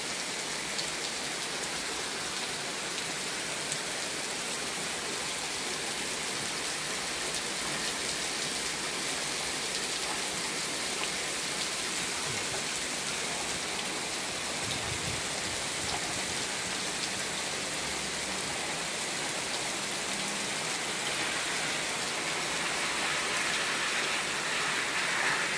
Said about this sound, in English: It just started to rain. Yep. Heavy rain.